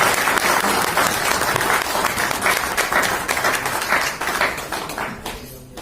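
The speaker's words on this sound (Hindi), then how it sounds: "आप तालियां दोबारा बजा दीजिए इनके लिए" Audience applause filling a seminar hall in Hansi, dense steady clapping from many people that holds loud for several seconds before thinning out near the end.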